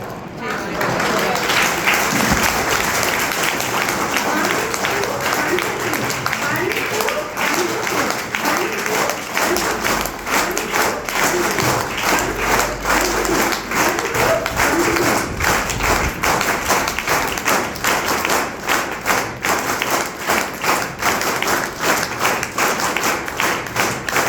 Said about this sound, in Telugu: ప్రెస్టీజ్ క్లాప్స్ ఒక్కసారి మనం కొడతాం